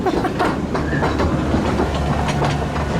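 Steady rumble and clatter of a park train ride at Blackpool Pleasure Beach, loud and continuous from on board with wheels clicking along the track.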